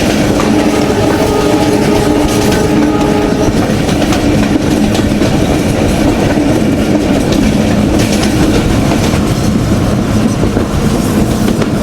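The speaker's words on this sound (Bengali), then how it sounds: "আমাদের ট্রেন পার করছে খুলনার দৌলতপুর বাজার।" A passenger train rolls along near Daulatpur bazar in Khulna, loud and close, with a continuous rumbling roar, rhythmic clickety-clack of wheels over rail joints and a steady engine drone throughout.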